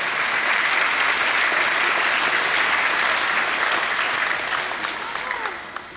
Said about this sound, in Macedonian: Ова заслужува аплауз.